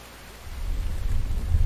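A thunderstorm with rain in the survival video game The Infected sends up a low rumble that swells over a steady wash of rainfall, with no talk.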